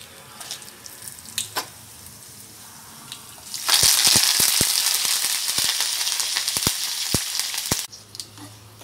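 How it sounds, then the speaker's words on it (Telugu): Spices for tempering hit a spoonful of hot oil in a pan for a cucumber and raw tamarind chutney, erupting into a loud, steady sizzle for about four seconds before cutting off, with quieter kitchen clinks around it. "నూనె వేడైన తర్వాత మనం తాలింపు వేసుకోవాలి"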